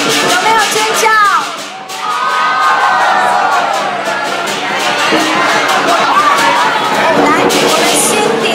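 Loud crowd screaming and cheering at a Shenzhen opening party just as a guest is brought out for a lion dance eye-dotting ceremony, sustained excited shouts with voices mixed in throughout.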